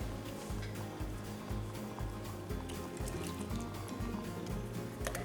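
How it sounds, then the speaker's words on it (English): Two 15-ounce cans of peaches being drained, a close, continuous trickle and splash of syrup pouring off with some wet rattling, no voices. "I'm gonna drain these real quick."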